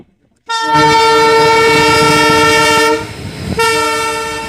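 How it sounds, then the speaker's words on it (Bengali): A WDG4 diesel locomotive sounds a loud, sustained horn blast at close range, breaking off briefly before a second long blast at a forest station. "diesel engine"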